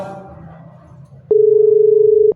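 A steady telephone dial tone sounds loud and continuous after a brief stretch of faint background murmur, as a phone is picked up to place a call.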